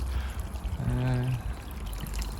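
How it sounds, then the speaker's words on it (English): Water trickling and splashing through a small backyard pond stream, a soft, continuous outdoor flow heard close, with a brief voiced hum in the middle. "There's part of my stream, and up there's another part of the stream."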